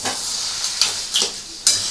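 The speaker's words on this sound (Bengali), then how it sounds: "এবার আমি এটাকে মিশিয়ে নাড়াবো" A crab and bottle gourd curry with green chillies sizzles in a pan while a spoon stirs it, with a few sharp scrapes over a hissing fry.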